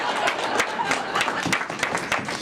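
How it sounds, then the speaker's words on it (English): Audience clapping and cheering at a free comedy show, a lively burst of applause with uneven claps and crowd noise under it. "thanks for the applause"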